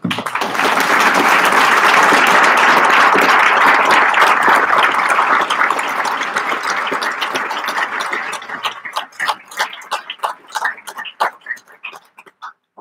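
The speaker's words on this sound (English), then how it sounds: "put a round of applause for Jim" A gathered crowd claps for Jim at the close of a memorial-style evening, a loud dense ovation that holds for several seconds, then thins into scattered individual claps as it dies away, with no talking over it.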